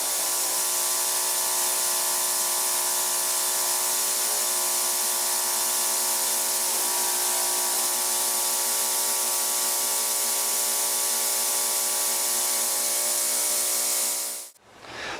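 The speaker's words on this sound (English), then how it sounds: "turn the ultrasonic tank on, you see the graphite actually being driven out between those two flat surfaces" An ultrasonic cleaning tank runs with a dense, steady hiss and a layered high buzz, loud and close, continuing evenly before cutting off abruptly near the end.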